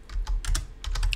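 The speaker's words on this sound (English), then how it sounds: "So .table, and then I can type the word" Fingers type on a computer keyboard while a search query is entered at a security course terminal, several quick, close keystroke clicks in small bursts, with no voice.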